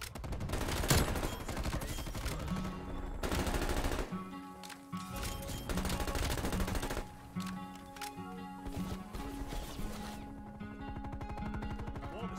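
Call of Duty: Cold War gunfire, fast automatic bursts from an LC10 submachine gun mixed with other weapons, loud and nearly continuous over game music and effects.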